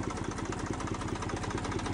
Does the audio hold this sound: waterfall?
no